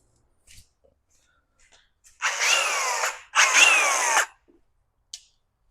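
An angle grinder works on car bodywork in two loud, close bursts of about a second each, separated by a brief pause, with near silence around them.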